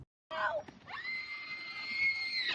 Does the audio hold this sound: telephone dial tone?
no